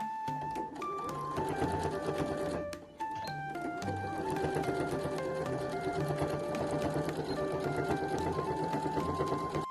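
A sewing machine stitches back and forth across corset fabric in a short backstitch run, its steady motor hum broken by a brief pause partway through before resuming, close and alone without talk.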